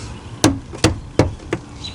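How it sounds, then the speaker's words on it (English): A hammer strikes a fuel pump part on the fuel tank of a 2017 Dodge Durango GT AWD 3.6L, with four sharp metallic blows in quick succession, the last one lighter. "Now I'm going to take my hammer and I'm going to hit it again."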